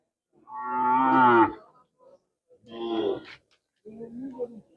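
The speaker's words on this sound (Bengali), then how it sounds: "অনেক গরু উঠছে, লাফনাউট গরুর হাট।" Cattle moo at a busy cattle market in Sylhet: three separate calls, the first long and loud, then two shorter ones, heard fairly close with quiet gaps between.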